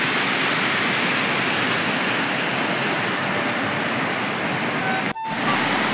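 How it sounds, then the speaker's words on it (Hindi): A flooded mountain river in Uttarakhand rushes fast in a steady, loud, broadband roar close by, with no break except a brief dip near the end. "आज यहाँ पे बाढ़ है, अभी कम है, बहाव बहुत तेज़ है, बहुत तेज़ है बहाव"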